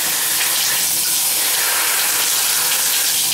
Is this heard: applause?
no